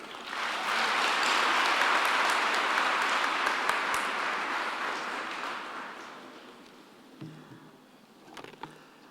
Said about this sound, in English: please let's give a warm round of applause for our guest speaker, Dr. Musawenkosi Sarombe.